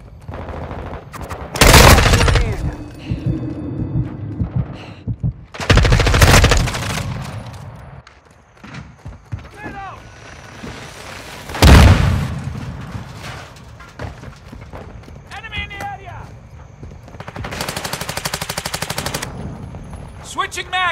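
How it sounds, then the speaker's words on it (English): Heavy bursts of automatic gunfire crackle in Call of Duty: Modern Warfare II, several loud sustained volleys separated by quieter gaps, with a long rattling burst toward the end and faint voices in between. "I'm taking fire!"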